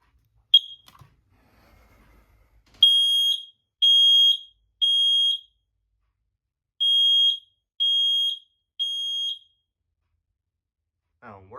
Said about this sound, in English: I'm going to be doing just a quick test of all my smoke alarms I have in my house.